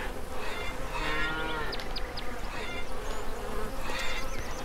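A cow moos in the video game Lumberjack's Dynasty: drawn-out, low, harmonic lowing over a steady buzz of insects on the farm.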